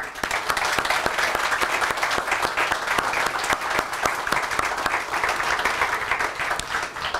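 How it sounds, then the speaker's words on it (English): A crowd at the launch of St. Paul's city recycling program applauds a sustainability coordinator, a dense, steady wash of clapping that holds at full level throughout. "I'd like to give a round of applause to my sustainability coordinator"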